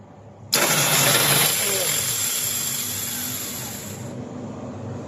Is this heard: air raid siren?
no